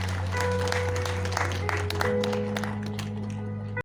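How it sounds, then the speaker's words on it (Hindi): Audience applause at an Uttarakhand Shiromani award ceremony, steady clapping filling the hall for nearly four seconds over a constant low electrical hum, then stopping abruptly. "जोरदार तालियां हो जाती जी एक बार।"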